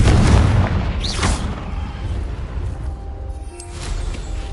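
A Confringo fire spell explodes in Hogwarts Legacy, with a loud booming blast up front that trails into a rumbling, crackling roar which lingers for several seconds.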